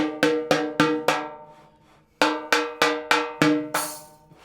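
Eight sharp snare drum hits with a ringing, pitched tone after tuning each lug a quarter turn, four in a quick even row, a pause, then four more, each decaying quickly.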